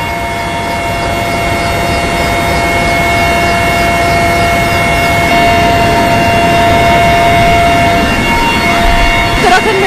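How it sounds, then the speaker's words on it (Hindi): An Indian Air Force helicopter flies toward Srinagar, carrying a Border Security Force relief team after floods in Uttarakhand. Its loud, constant rotor and engine drone is heard from inside the cabin and fills the whole clip. "इस वक्त हम मौजूद है वायुसेना के इस हेलीकॉप्टर में जो सीमा सुरक्षा बल के राहत दल को लेकर श्रीनगर जा रहा है"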